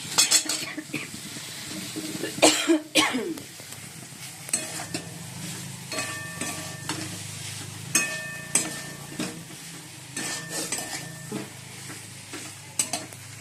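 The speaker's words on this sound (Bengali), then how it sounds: "বন্ধুরা আলুর দম বানাচ্ছি মশলাটা কষানো হয়ে গেছে আলুগুলো দিয়ে দেবো" Potatoes for aloo dum are stirred into fried spice paste in a pan, with a soft sizzle beneath repeated clanks and scrapes of a spatula against the metal, in irregular bursts up close.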